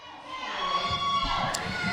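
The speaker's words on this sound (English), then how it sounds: "listen to this crowd come alive" A wrestling crowd at an NWA event comes alive in sustained cheering and shouting, with high-pitched children's yells rising over a broad, steady roar that swells through the middle.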